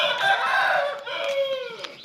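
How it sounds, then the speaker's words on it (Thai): A rooster crows nearby in the early morning in rural Thailand, one long, loud call that rises and trails off, with no talking. "ไก่กำลังขันเลย"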